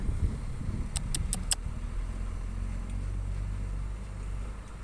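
The engine of a Kobelco SK200-8 excavator rumbles low and steadily throughout, with a quick run of four sharp clicks early on.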